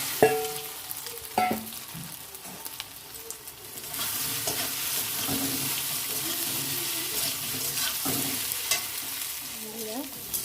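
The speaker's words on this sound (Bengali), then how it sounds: "এটাকে এবার আমি ভেজে নেব।" A spiced mixture with coriander leaves and garam masala frying in a pan, a quiet start with a few scraping stirs, then a louder steady sizzle from about four seconds on, broken by occasional stirring knocks.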